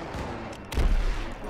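Gunfire in the World War II shooter Call of Duty WW2, a burst of shots swelling midway through a dense, continuous battlefield din with no talk.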